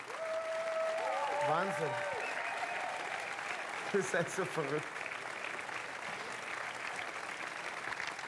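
Sustained applause from an audience at a stage surprise celebration marking a performer's 30 years on stage, steady clapping throughout with a voice speaking over it.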